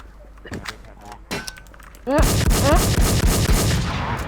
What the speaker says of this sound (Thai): ปืนมันรัว